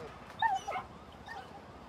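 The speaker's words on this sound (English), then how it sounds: "Oh, look, another dog!" Short yips and whimpers from a dog in a video game, a few faint, high-pitched calls clustered in under two seconds over a quiet background.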